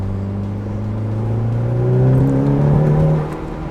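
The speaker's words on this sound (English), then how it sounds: "driving the Evo before we tune it to kind of get a feel for how it's working, how it behaves at high boost" A Mitsubishi Evo drives under high boost before tuning, its engine droning and rising in pitch as it accelerates. The loud, close engine note swells, then eases near the end.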